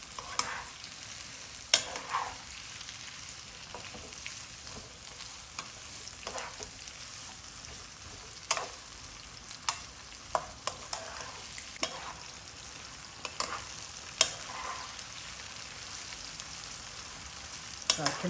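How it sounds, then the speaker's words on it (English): Onions fry in a pan toward golden brown with a soft, steady sizzle and scattered crackles and pops, fairly quiet and without talk. "I'm going to fry these till they're nice and golden brown."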